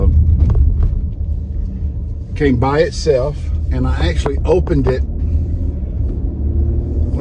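Steady low rumble of a car rolling along the road, heard from inside the cabin, continuing under a person talking throughout.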